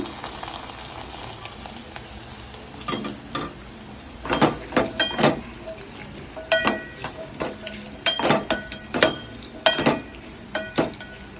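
Hot oil tempering sizzles and crackles in irregular loud bursts as it is added to a curry of black-eyed peas, prawns and sesame cake, with stirring clatter against the pan. A low hiss runs underneath.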